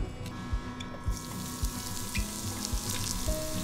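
Peeled cucumber stir-frying in a pan, a continuous soft sizzle with light scraping and stirring knocks recurring at a steady rhythm, close up and without talk.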